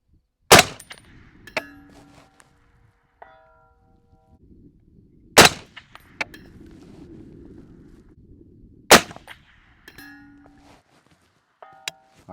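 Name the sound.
rifle shots with Texas Flood suppressor solid end cap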